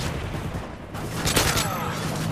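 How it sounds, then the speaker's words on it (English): Predator missile strike explosions in Call of Duty on the Seatown map: loud rolling booms and crackling bursts of gunfire fill the whole moment, dense and close, with a heavier blast about halfway through. "Friendly Predator missile inbound."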